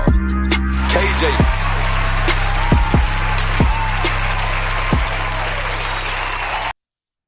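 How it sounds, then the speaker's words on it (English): An audience claps for the host of a podcast, the clapping mixed under a booming music beat with deep bass hits and drops that runs to a sudden cutoff. "Give a round of applause"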